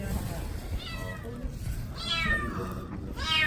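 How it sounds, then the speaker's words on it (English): A cat stuck in a sewer meows several times, the rising-falling cries coming in quick succession over a steady background rumble of street noise. "We're trying to get this cat out. It's stuck."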